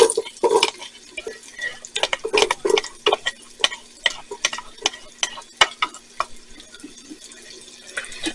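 Diced onion hitting a pot slick with leftover bacon grease for potato soup, giving a crackling sizzle with repeated sharp clicks and scrapes of stirring, close and moderately loud, with no talking.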